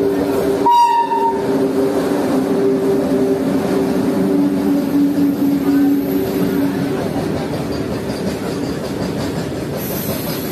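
A goods train rolls past close by on a village line, a sharp horn blast near the start giving way to a steady, loud rumble and clatter of wagons that carries on to the end.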